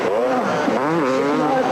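A 250cc Honda motocross motorcycle screams past on a race track, its engine note rising and falling loudly while a commentator talks over it.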